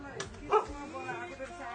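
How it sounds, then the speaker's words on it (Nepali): A dog gives a few short, sharp barks and yips close by while people talk over it. "यसले चाहिँ कति भुक्दैछ"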